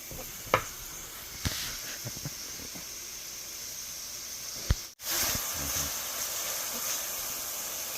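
Anchovies sizzle steadily in a pan as they cook down for spaghetti alla Natalina, giving a close, continuous hiss broken by a few sharp clicks and light utensil taps.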